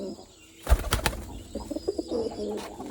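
A male pigeon-like exotic bird on a bird farm gives a short run of close coos, with a brief flutter of wings.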